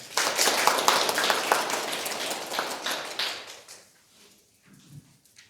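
An audience at a lecture claps to welcome a lawyer to the stage, a brisk burst of many hands that fades away over a few seconds into quiet.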